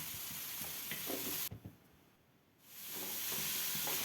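Vegetables and carrots fry in oil for avarekalu upma, a steady close sizzle with stirring clatters that drops out for about a second and then returns.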